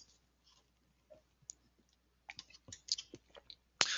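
Several small, sharp computer mouse clicks at a desk, faint and close, scattered over a few seconds with a cluster of louder clicks near the end; no talking.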